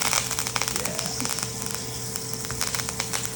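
Scallops searing in hot oil and butter in a pan, a steady dense crackle and sizzle filling the clip without a break, close and loud.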